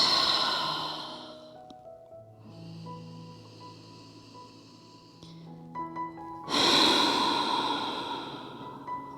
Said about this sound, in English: One more deep cleansing breath in through the nose and out through the mouth.